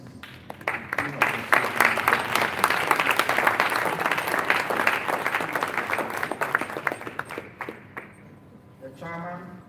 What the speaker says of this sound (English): join me to give a round of applause for our chairman